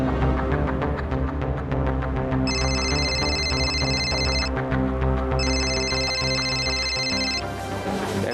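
A telephone rings in a nursing home scene from a Bengali TV serial, two bursts of electronic ringing over a bed of background music, fairly loud and close.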